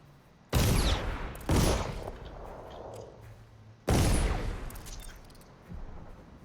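Gunshots ring out in the video game Dishonored, three loud sharp blasts with long echoing decays, the first two about a second apart and the third after a pause, followed by a fainter thud.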